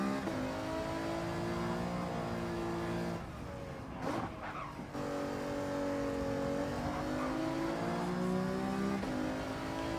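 A race car in Gran Turismo 7 at Fuji Speedway accelerates hard down the straight, its engine note climbing through the gears in a loud, sustained whine, with a short dip around a gear change.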